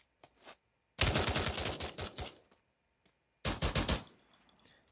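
M14 rifle in the shooting game Free Fire: two loud bursts of rapid automatic fire, the first about a second and a half long and the second shorter, with silence between them.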